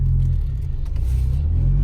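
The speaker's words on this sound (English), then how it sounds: "The muffler makes it a little bit louder than normal." A car engine fitted with an aftermarket muffler idles and drives with a steady, deep exhaust rumble, continuous and close, slightly louder and throatier than a stock exhaust.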